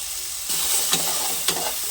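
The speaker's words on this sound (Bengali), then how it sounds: "লবণ হলুদ দিয়ে আলুটা আমি ভালো করে ভেজে নেব" Potato pieces seasoned with salt and turmeric sizzle in hot oil, the frying hiss jumping louder as they are added, then punctuated by two sharp scrapes of a spoon stirring the pan.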